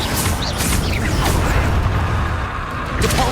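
Spell-casting effects in the fantasy game Hogwarts Legacy, with the Confringo fire spell among them: a loud, dense mix of whooshes, crackling bursts and mechanical clatter with no clear gaps.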